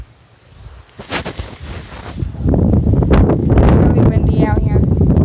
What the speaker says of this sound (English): Really windy out here.